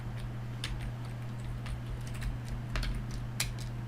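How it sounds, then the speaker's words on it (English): Soft typing on a computer keyboard, scattered light clicks over a steady low electrical hum, fairly quiet and close with no talking. "if I go to here, and again you type"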